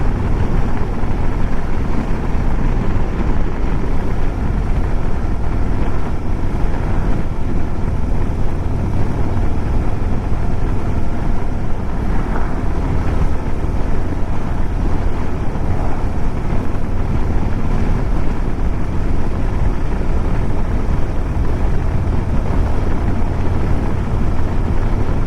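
A 2025 Harley-Davidson Road Glide cruising steadily in fourth gear, its engine rumble buried under loud, constant wind roar and buffeting that runs unbroken throughout.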